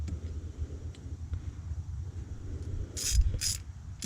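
Intake hose clamp being tightened on a Subaru BRZ/Toyota 86, with a low engine-bay hum and a few sharp ratcheting clicks near the end, close and moderately loud.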